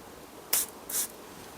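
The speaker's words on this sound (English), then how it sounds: "I'm going to spray a little bit on my hand." Two short hissing bursts of Francesca Bianchi Libertine Neroli perfume sprayed from an atomizer onto a hand, close and fairly crisp, with a brief pause between them and quiet around them.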